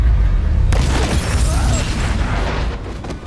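An Exploding Star attack from One Piece goes off as a loud, deep boom that bursts suddenly and rolls on as a dense rumbling roar, close and heavy, with faint crackles as it fades.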